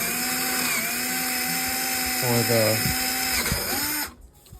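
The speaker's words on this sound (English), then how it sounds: "now continuing on, we're going to drill our hole" A power drill whines steadily at high speed, briefly loading down as it bites into wood while drilling a hole for a T-nut fastener, then cuts off abruptly near the end.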